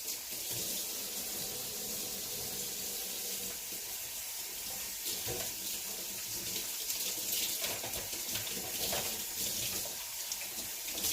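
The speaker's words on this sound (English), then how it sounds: "Let me wash my hands very quickly." Tap water runs steadily into a sink with splashing as hands are washed, close and continuous with no talking.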